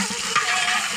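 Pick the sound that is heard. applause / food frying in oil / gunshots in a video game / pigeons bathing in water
food frying in oil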